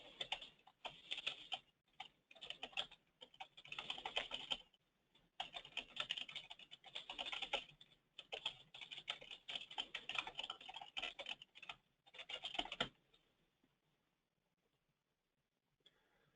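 Fast, close clicking of computer keyboard typing comes in irregular bursts with short pauses, then stops and leaves near silence.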